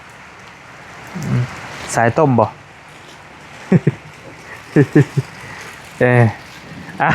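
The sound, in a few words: rain falling at the house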